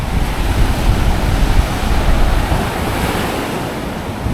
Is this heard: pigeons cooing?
no